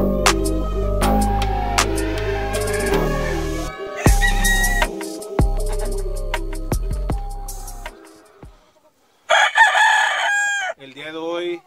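Fighting roosters on a gamecock ranch crow repeatedly and cluck, loud and close, with several overlapping crows and sharp knocks and clatter between them, a short pause, then more squawking and clucking.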